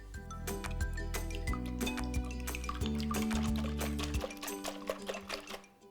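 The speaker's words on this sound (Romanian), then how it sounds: "Voi începe cu ouăle, pe care le voi bate puțin înainte." Eggs whisked in a bowl with a whisk, a quick run of sharp clinking strokes that repeats steadily for several seconds over a sustained tonal background.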